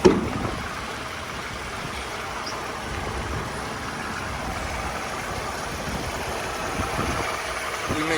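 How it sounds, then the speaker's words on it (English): A 2011 Toyota Camry XLE with a V6 engine idles nearby, a steady low engine rumble running evenly throughout after a brief knock at the start. "This is a V6 motor."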